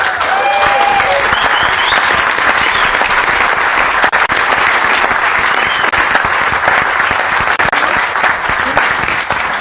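An audience at an IRONMAN World Championship pro press conference in Kailua-Kona applauds and cheers for a young boy named Nicholas, with steady, dense clapping filling the whole stretch at close range.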